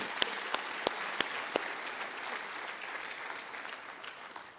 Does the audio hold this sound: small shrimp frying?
no